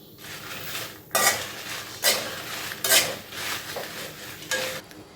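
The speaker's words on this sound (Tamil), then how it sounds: "எண்ணெய் இல்லாமல் தான் வறுக்கணும்" Chilli powder ingredients dry roasted in a pan with no oil, with five or six loud, rhythmic scraping sweeps of a metal spatula across the pan between quieter rustling, no voices.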